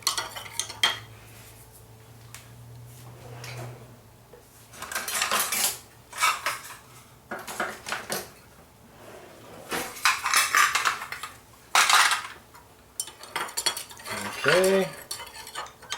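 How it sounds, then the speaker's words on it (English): Butter and chocolate being stirred in a metal pot, a spoon clinking and scraping against the sides in irregular bursts between quieter pauses, with one brief spoken word. "Mix it up till the butter is completely melted."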